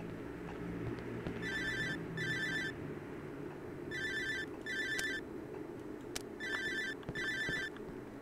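Telephone ringing in the horror video game Cry of Fear, repeated electronic double rings in pairs over a low ambient background, fairly loud and without speech.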